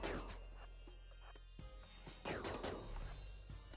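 Rapid bursts of gunfire from a RimWorld colony skirmish crackle in quick, overlapping volleys, loud and steady across the clip with a few heavier shots standing out.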